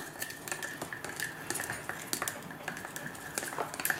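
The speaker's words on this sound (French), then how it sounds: "Vas-y, maintenant il faut que tu mélanges." A spoon stirs sugar into water in a glass during a home chemistry experiment, giving quick light clinks and taps against the container. The sound is close but soft, with a faint tinkling rhythm and no speech.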